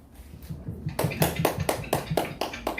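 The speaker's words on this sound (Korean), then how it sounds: "큰 박수 부탁드립니다" Audience applause for a presenter at the close of an election observer training session, starting as scattered taps and swelling into a steady, rhythmic round of clapping.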